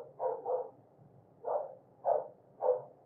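A dog barks in a room during desktop PC repair, five muffled, fairly distant barks in an uneven rhythm, the first two close together.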